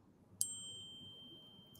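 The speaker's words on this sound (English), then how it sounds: "We got a bell right as we said that." A single bell struck once, giving a clear bright ding that rings on as a long steady tone before fading, in an otherwise quiet room with no talking.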